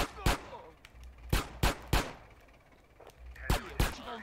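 Repeated gunshots in GTA San Andreas ring out as sharp, loud bursts, a pair near the start, then a tight cluster, and another pair toward the end, over a low rumble of game ambience.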